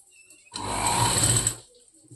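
A sewing machine runs in one loud, steady burst of about a second while stitching the seam of a boat-neck blouse, with quiet before and after.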